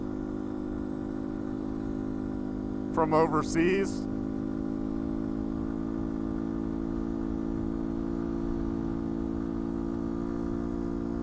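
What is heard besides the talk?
Yamaha 125cc motorcycle engine running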